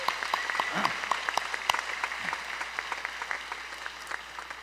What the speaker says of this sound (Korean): 우리 축하 박수문 한번 드리죠.